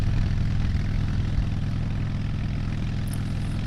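A motorcycle ridden fast on a Colorado mountain road gives a continuous loud engine drone mixed with heavy wind rush, steady and unbroken throughout.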